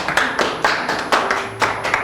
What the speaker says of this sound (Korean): 공감하면 박수 한번 치고 넘어가요